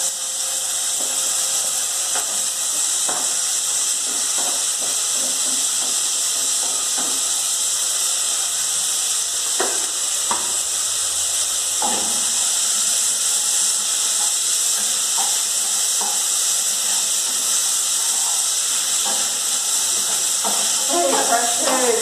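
Onion added to a hot pan gives a constant loud hissing sizzle, with scattered clinks and crackles over it and a voice speaking now and then.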